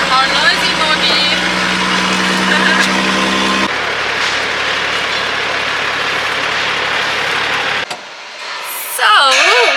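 A Unimog truck's engine runs with a steady low rumble and a droning harmonic tone, fairly close and loud, then cuts to a quieter stretch near the end, where a rising and falling whine is heard.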